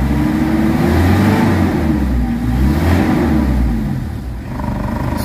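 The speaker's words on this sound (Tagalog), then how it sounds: "Pakiramdaman nyo yung galit ng makina" A Mitsubishi Adventure engine, low on power, revs loudly up and down nearby to about 3,000 RPM, its pitch rising and falling in repeated surges before settling to a lower idle.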